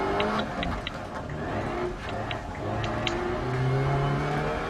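A rally car engine in Dirt Rally drones and revs continuously, with the pitch rising and shifting through gear changes and a few faint clicks over the top.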